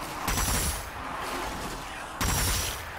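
Gunfire from a video game gun loaded with holy divine-shot bullets, heard as two loud bursts of rapid shots separated by a steadier noisy stretch, with no talking.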